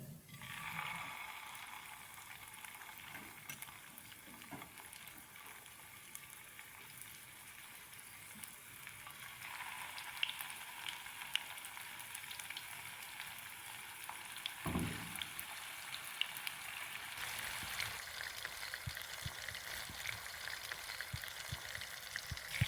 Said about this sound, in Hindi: अब हम इसमें डालेंगे, फ्राई करेंगे।